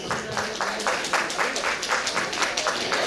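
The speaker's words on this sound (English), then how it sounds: "big round of applause for our chief guest, Ramki sir" An audience applauds as the chief guest is welcomed onto the dais at a launch event: steady, dense clapping throughout, with faint voices mixed in.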